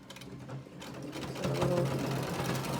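Sewing machine stitching around the edges of thick, pleated face mask fabric, a steady close mechanical whir that picks up speed and grows louder partway through.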